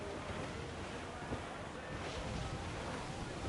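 Wind rushing over a sailing ship's canvas on open sea in Assassin's Creed IV Black Flag, a steady broadband roar mixed with surf and wash, loud and unbroken throughout.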